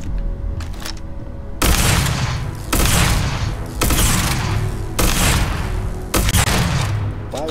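The OmegaTech M-29 Incisor MagSniper in Starfield fires five loud, close bursts of rapid shots in a regular rhythm, each with a booming tail, after a brief quieter lead-in.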